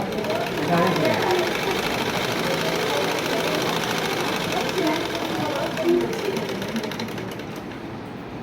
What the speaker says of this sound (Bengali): তাহলে এটার উপর চাপ সেলাই দিচ্ছি।